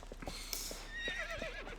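Epona, the horse in Zelda: Twilight Princess, gives a loud whinnying neigh that rises and wavers over a soft clip-clop of hooves on a ranch.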